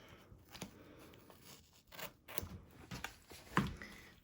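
Scissors snip along the seam of a handmade Game Boy zip bag, sparing the fabric, zipper and vinyl, giving a few separate quiet cuts and rasps spread out in time with no talking.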